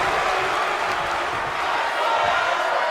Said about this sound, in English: You can hear the crowd here thoroughly enjoying this matchup here.